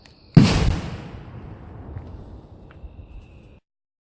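A single homemade fireball firework goes off with one sharp, loud blast that rolls into a long, fading rumble lasting about three seconds before falling silent.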